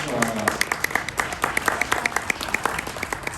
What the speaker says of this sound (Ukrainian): Давайте привітаємо оплесками наших ексклюзивних гістів